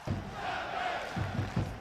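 A large Major League Soccer stadium crowd roars and chants together, a loud sustained mass of voices with rhythmic shouted surges near the end.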